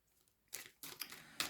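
Tarot cards are shuffled by hand close up, producing three quick papery riffling bursts, each trailing off, after a near-silent start.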